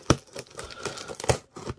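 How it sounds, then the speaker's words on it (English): A large cardboard package holding a fountain pen display box is cut and pried open with scissors, giving a few sharp crinkling, tearing bursts close by with brief pauses between them. "I will try to open it as gentle as I can using my scissors."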